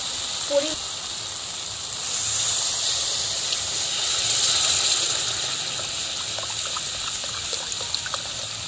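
Water poured into fried spice paste in a pan for a tomato rohu fish curry, giving a steady hissing sizzle with trickling, bubbling texture that swells and eases over several seconds, near and fairly loud.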